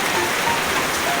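Steady rain pours down on a surface in the morning, a dense even hiss of drops close by with no talk.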